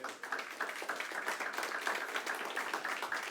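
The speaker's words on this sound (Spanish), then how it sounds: "Todavía le puedo dar una ofrenda de palmas al Rey." A congregation claps steadily as an offering of applause to the King during a church service, with dense, continuous rhythmic hand claps filling the room.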